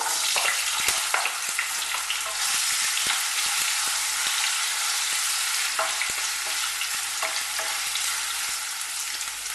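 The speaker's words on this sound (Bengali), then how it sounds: "এবার এক এক করে আমি সবজিগুলোকে ভাজবো। প্রথমে আমি দিয়ে দেবো আলু" Potatoes and vegetables sizzle steadily in hot oil in a pan with whole spices, a loud continuous frying hiss broken by occasional scraping clicks of stirring, with no talking.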